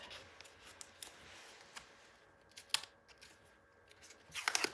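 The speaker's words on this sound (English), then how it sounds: "And then I'm going to take this tape off." Tape being peeled off patterned paper while building a 9 x 9 mini album, faint scratchy rubs and a few soft ticks before a louder crinkly rip at the end, close and quiet.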